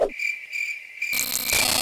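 Crickets chirp in a steady high trill, joined by a denser, louder chorus of insect noise partway through.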